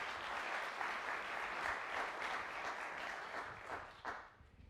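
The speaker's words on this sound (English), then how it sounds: "Let's give NYU a big round of applause." A room full of people clapping, dense and continuous, tapering off near the end with a few last claps.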